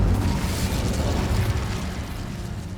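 Incendio fire spell cast in the game Hogwarts Legacy, a loud, steady, rumbling roar of flame with crackling bursts, close and sustained for the full few seconds, slightly easing toward the end.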